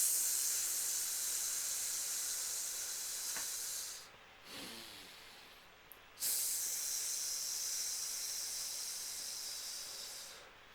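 A person makes a long, steady hissing breath to imitate a snake, close and loud, dropping away briefly in the middle before a second sustained hiss that slowly fades.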